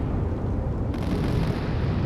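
Naval gunfire and explosions in the warship combat game Sea Power, a dense, continuous low rumbling roar of booms that stays loud throughout with no talking.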